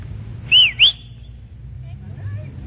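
Two quick, rising-and-falling whistles from a person, close by, over low background rumble, followed by faint distant chirpy sounds.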